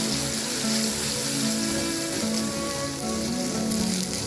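Tomato-ginger paste sizzles loudly and steadily in mustard oil left from frying pointed gourd, a dense, continuous hiss with no pauses.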